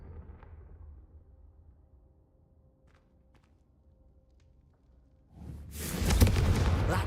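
A Confringo fire spell blast in Hogwarts Legacy erupts as a loud, sudden roaring burst after several seconds of quiet low ambience, and the fiery rush keeps going to the end.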